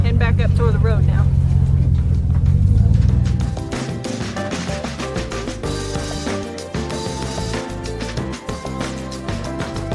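A pickup truck drives along a road, its low engine rumble loud and steady for the first few seconds before fading under busier sound and talking.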